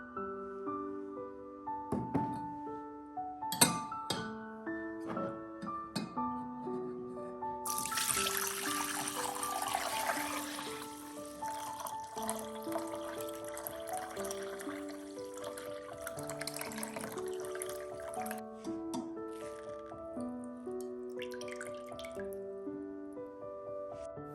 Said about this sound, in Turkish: Şimdi bu gübreyi süzeceğim. Posasından ayırmamız gerekiyor.